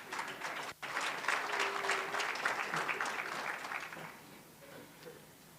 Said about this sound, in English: so that they can clap for you